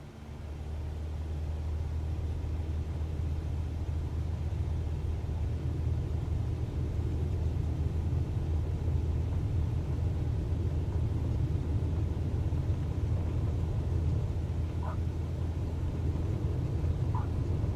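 A Cessna 172 engine drones steadily during its takeoff roll at night, a low continuous rumble heard from inside the cabin that swells at the start and then holds even, with no talk over it.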